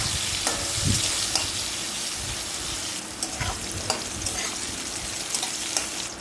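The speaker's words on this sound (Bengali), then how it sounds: "ওই কড়াইতে উচ্ছেটা ভেজে নিচ্ছি।" Bitter gourd fries in a wok of hot oil with salt and turmeric, a steady close sizzle broken by occasional scrapes and stirring clicks.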